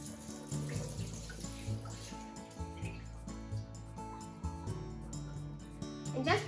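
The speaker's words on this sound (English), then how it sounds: "At first, I'm rinsing the rice." Tap water running while rice is rinsed in a kitchen, a continuous splashing flow with swirling and gentle stirring over several seconds.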